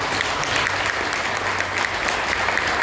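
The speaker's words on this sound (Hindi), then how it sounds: "सबसे पहले तो जैन साहब के लिए ताली बजाओ" An audience at a spiritual talk on pranayama gives steady, dense applause, loud and continuous throughout, with a faint low hum underneath.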